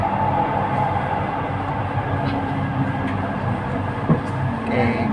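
LRT Jabodebek light-rail train pulling into Rasuna Said station, heard from inside the carriage as a steady low rumble and hum with faint rail clicks, continuous and fairly loud throughout.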